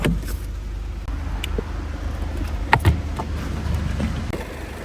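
A 2016 VW Passat with about 350,000 km idles steadily as it warms up, its low engine rumble continuous and close, with a few brief clicks and knocks rising over it near the end.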